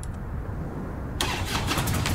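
In a Brazilian GTA-style video game, a motorcycle engine turns over after a quiet lead-in, then catches and runs with a loud, close, rough mid-pitched idle and slight revving, with no talking.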